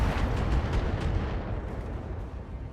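Weapon fire in BattleTech mech combat: dense, continuous rumbling barrage of heavy shots and impacts, loud and booming throughout, with no voices.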